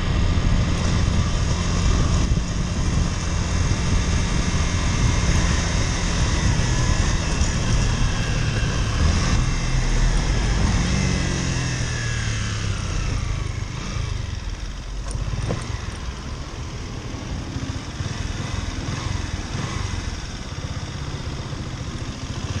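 Honda CG motorcycle engine running continuously, a loud, close, rough drone that holds steady and then eases slightly in pitch and level midway, with wind-like noise over it and no talking.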